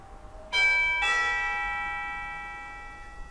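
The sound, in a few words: doorbell chime ringing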